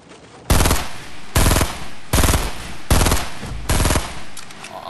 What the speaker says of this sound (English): Sniper shots are still good.